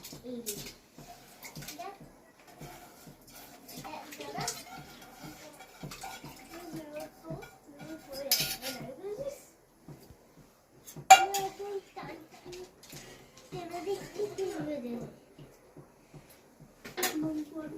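Washed moong dal goes into water in a pot at home, with soft splashing, light clinks of metal cookware and intermittent voice-like sounds over a quiet kitchen background.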